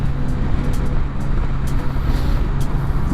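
A motorcycle is ridden along the road, its engine a steady, close, droning rumble with a faint wind-like hiss over it and no pauses.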